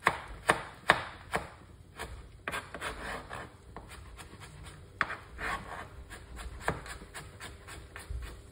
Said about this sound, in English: Chop up some carrot, you know?